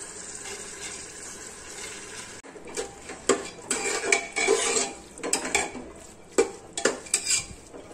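A spoon stirs whole masoor lentils with chopped coriander in a pot, giving irregular clinks and scrapes of metal on metal in close, moderately loud bursts, with no talk.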